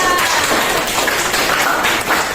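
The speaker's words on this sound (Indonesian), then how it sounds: "Tepuk tangan untuk kelompok 2" A classroom of students in an Indonesian history lesson applauds group 2, steady close clapping that fills the whole moment like a patter of rain.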